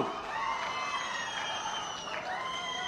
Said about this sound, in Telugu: గట్టిగా చప్పట్లు కొట్టి అభినందించండి ఇలాంటి మంచి పని చేసినప్పుడు